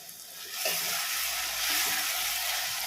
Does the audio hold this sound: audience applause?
no